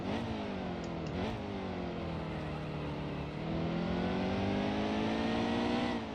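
A NASCAR Xfinity race car in the video game NASCAR Heat 2 at Mid-Ohio drones loudly and continuously, its engine pitch dipping and climbing as it revs through gear changes.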